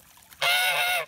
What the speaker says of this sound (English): Love having geese around.